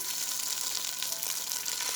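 Steady, dense crackling sizzle of tofu pan-frying in hot oil, close and continuous throughout with no voices.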